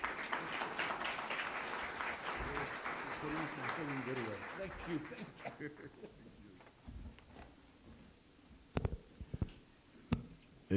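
An audience at the Gems Spirit of Comrades Awards 2025 applauds a municipal speaker, the clapping strong at first and then thinning out into a few scattered, separate claps and small knocks.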